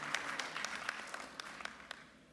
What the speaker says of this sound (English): Maybe we give them a hand of applause.